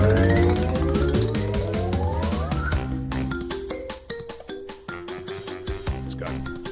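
Loud platforming music from the video game Clair Obscur: Expedition 33, opening with rising sweeping tones and then shifting to dense rhythmic orchestral hits and runs. It plays throughout with no talk.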